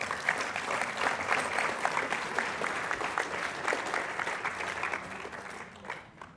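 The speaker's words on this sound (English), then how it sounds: "Let's give them a round of applause." Banquet audience giving a round of applause, sustained crowd clapping with distinct individual claps standing out, at moderate volume and fading slightly toward the end.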